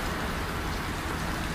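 Steady heavy rain pours down in Borobudur on a windy morning, heard from a third-floor homestay as the light drizzle thickens, a dense continuous hiss close around with no voices.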